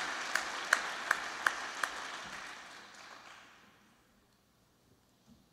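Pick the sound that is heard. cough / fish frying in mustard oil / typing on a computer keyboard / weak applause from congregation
weak applause from congregation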